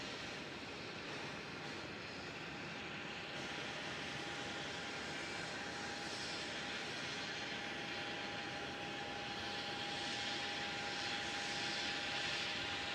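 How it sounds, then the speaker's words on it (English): A China Eastern Boeing 787-9 jet airliner at Melbourne Airport, bound for Shanghai, gives a steady, loud, broadband jet roar that holds evenly throughout with no voices. "China Eastern 787-9 heading back to Shanghai."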